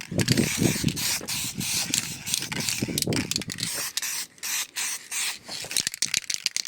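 Hammerite paint sprayed in light coats onto Toyota Supra Mk2 engine parts and cam covers, a steady close hiss broken by short bursts and brief pauses, with no talk over it.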